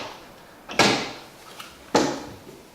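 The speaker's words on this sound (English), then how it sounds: "as you open up the drawer glides here" A wooden cabinet drawer slides open on its drawer glides twice, each pass a short sharp burst of wood-on-runner noise that rises quickly and fades, heard close with no talking.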